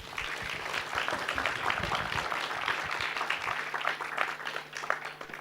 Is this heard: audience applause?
yes